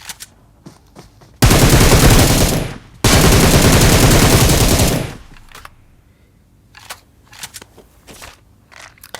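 BGMI mobile game gunfire: two long, loud sustained bursts of rapid automatic fire, split by a brief pause, followed by quieter scattered shots and clicks.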